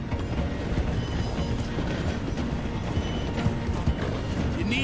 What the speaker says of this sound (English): The train is slowing down to go through the station.